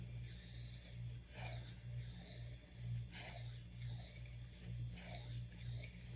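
A knife blade strokes across a Thleite Splash waterstone with light pressure, soft gritty rasps sliding back and forth in a slow, regular rhythm over a faint low hum.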